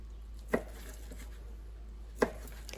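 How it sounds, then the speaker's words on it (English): Knife slicing ham into strips on a cutting board, two distinct sharp chops about a second and a half apart against a quiet background hum. "Then you're going to cut the square shape into strips, just like so."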